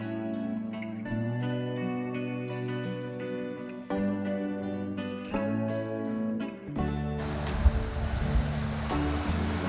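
The Alger Falls waterfall spills down a series of cascades totaling 15 feet. A steady broadband rush of water comes in loud and close near the end, after a stretch of music.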